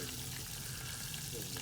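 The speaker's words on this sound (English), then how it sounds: "It's frying good." Fish frying in hot oil for fish and chips, a dense, even sizzle with crackling hiss that stays steady and close throughout, with no talk over it.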